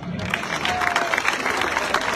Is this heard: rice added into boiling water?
no